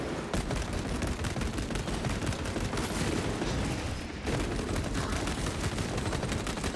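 Dense, continuous video-game gunfire from a heavy bolt rifle in a horde fight, a loud sustained barrage of overlapping shots with no clear gaps, dipping briefly before resuming.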